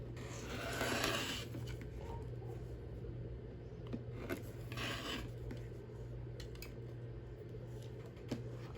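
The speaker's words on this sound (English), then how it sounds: "you're going to take your ruler and you're just going to cut" Quilt fabric scraps are cut along a ruler with soft, rasping strokes, a couple of fuller swipes standing out, close and fairly quiet with no voices.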